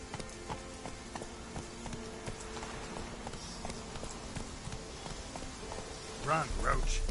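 Horse hooves clip-clop in a steady rhythmic gallop across ground in The Witcher 3 video game, moderately loud, with a faint rushing background and a short shout near the end.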